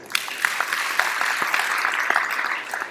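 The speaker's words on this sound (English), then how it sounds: "Can we give a big round of applause for Kajal?" An audience at a community celebration gives a round of applause, a steady, moderately loud patter of clapping lasting a few seconds.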